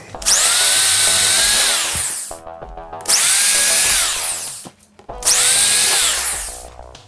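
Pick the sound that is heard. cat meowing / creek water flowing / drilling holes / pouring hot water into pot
drilling holes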